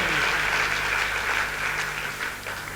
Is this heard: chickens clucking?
no